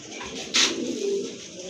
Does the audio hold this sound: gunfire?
no